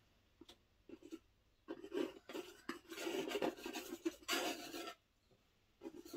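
A paintbrush scrubs oil paint onto canvas during a wave painting, making a soft, dry rasping rub in quick strokes that build into a longer scrubbing stretch before stopping, close and fairly faint.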